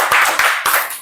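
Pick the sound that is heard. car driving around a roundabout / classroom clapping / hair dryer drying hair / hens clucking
classroom clapping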